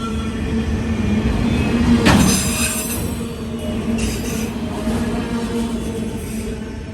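A Norfolk Southern freight train rolls past on a siding, a steady loud rumble of cars with a sharp wheel squeal rising briefly near the middle before the grinding continues.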